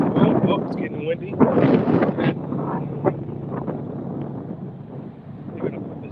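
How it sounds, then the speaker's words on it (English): Strong wind buffets a microphone outdoors during a long-distance walk toward US 1 in the Florida Keys, a steady broadband rumble with gusts swelling and easing throughout, with brief voice sounds mixed in. "Oh, it's getting windy."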